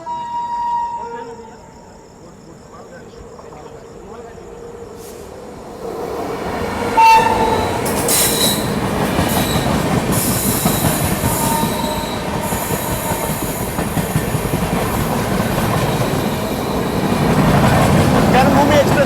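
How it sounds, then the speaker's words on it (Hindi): The Karmabhoomi Express overtakes on a parallel track near Danapur in India, heard from aboard another train. A loud horn blast is followed by a continuous roar of passing coaches and rattling wheels that builds over the whole stretch. "कर्मभूमि एक्सप्रेस ने हमें वापस ओवरटेक कर लिया।"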